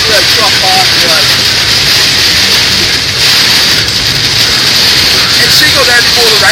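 Heavy thunderstorm rain pours down steadily in a dense, loud roar from start to finish, with faint voices under the downpour.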